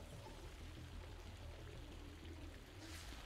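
Sludgy water flowing steadily in the sewer-like underground of the video game Batman: Arkham Origins Blackgate, a constant pouring wash that stays even and fairly quiet throughout.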